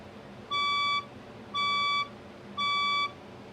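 Fire alarm warning tones during a building test: three identical electronic beeps of about half a second each, evenly spaced about a second apart, clear and moderately loud over quiet background.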